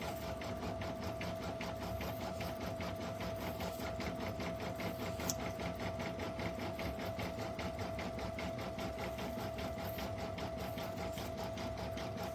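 An embroidery machine stitches a stuffed toy ear applique with a fast, even mechanical chatter and a steady motor hum running unbroken throughout, close and alone.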